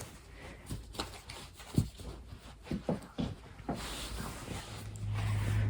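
Soft papery riffles of tarot cards being shuffled, several quick bursts in a row at close range in a quiet room, with light handling noise between them.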